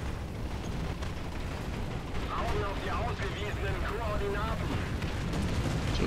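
Dense rumbling artillery barrage in War Thunder tank combat, a steady roar of distant explosions with someone talking over it.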